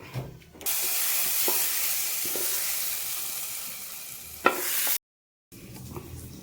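Hot tempering with chilli powder is poured into a pot of cucumber and mango curry, setting off a loud, steady broadband sizzle. It holds for about four seconds with a sharp spit near the end, then cuts out and returns more faintly.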